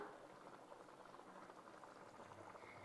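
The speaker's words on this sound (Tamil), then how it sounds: "ரசம் நல்லா கொதிச்சு வந்துடுச்சு" Chicken rasam made with country chicken boils steadily in a pot, a soft, continuous bubbling and gurgling heard up close but quietly, with no voices.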